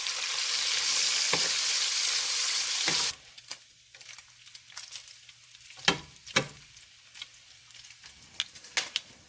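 Hot grease sizzles loudly and steadily in a new skillet being seasoned, then cuts off abruptly after about three seconds, leaving a quieter background with scattered sharp clicks and taps of cookware.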